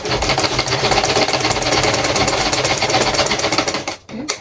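A sewing machine runs in one fast, steady burst of rapid mechanical stitching while sewing an overbust corset, close and loud, then stops abruptly near the end.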